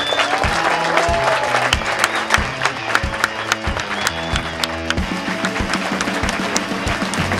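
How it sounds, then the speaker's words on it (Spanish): A crowd at a 50th anniversary celebration of a Faculty of Electrical Engineering bursts into sustained applause, with scattered cheers over steady clapping that keeps going without a break. "Creo que se merecen un aplauso, por favor."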